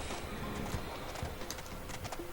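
Horse hooves clip-clop steadily in the PS1 game Mary-Kate and Ashley Winner's Circle during a beach trail ride, a continuous rhythmic patter over game ambience with no talking.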